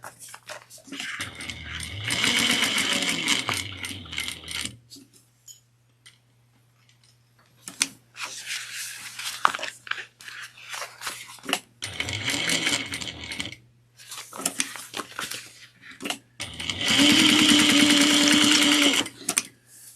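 A sewing machine stitches a quarter-inch box seam on a tote bag, running in several bursts of steady whirring separated by pauses, loud and close with small clicks and handling sounds between runs.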